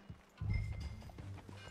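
Horse hooves clip-clop in Red Dead Redemption 2, a short burst of heavy, low thuds that swell after a quiet start and keep going steadily.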